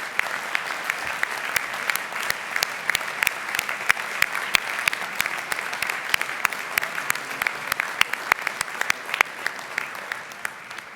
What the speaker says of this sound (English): Would you applaud these individuals